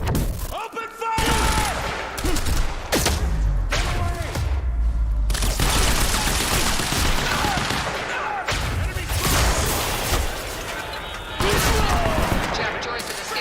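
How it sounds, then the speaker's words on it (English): Sustained bursts of automatic gunfire and scattered booms and thuds in a firefight in a garage in Quantum Break, loud and dense throughout the scene, with game character voices shouting over the shooting. "Open fire!"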